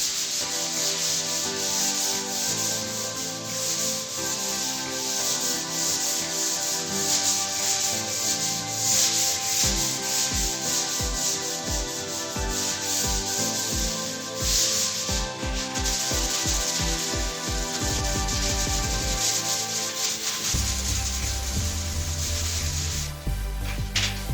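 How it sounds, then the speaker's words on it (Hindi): Wooden furniture is rubbed with 320-grit sandpaper before polishing, producing a steady, continuous abrasive rasp that stays loud and close throughout, with a run of rhythmic strokes in the later part. "ये है 320 नंबर रेगमाल। तो इस तरह आपने रेगमाल लगाना है।"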